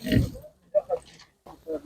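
Piglets at a livestock market give short grunts and squeals in brief bursts, close and fairly quiet, with people talking nearby.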